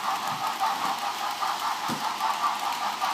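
A Digitrax-controlled model train locomotive, number 706, runs its sound decoder, giving a steady, even engine hum with faint low thumps, continuous and moderately loud with no talking.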